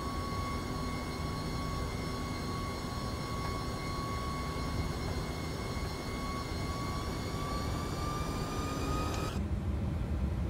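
An MD-11 airliner taxiing in the X-Plane 11 flight simulator, a constant loud jet engine whine with steady high tones and broadband rumble that cuts off abruptly near the end.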